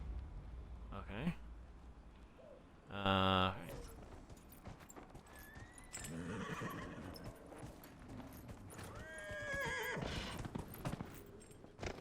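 Horse galloping in the video game Dragon Age: Inquisition, with steady clip-clop hoofbeats, a loud neigh and a whinny, mixed with game sounds while a person talks over it.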